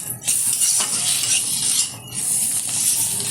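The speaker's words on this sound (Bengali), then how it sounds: "এবার ভালোভাবে মশলাটা আমি ভেজে নেব।" A spice masala with coriander powder fries for a hotel-style egg curry, giving a continuous bright sizzle broken by close scraping strokes of a spatula stirring against the pan.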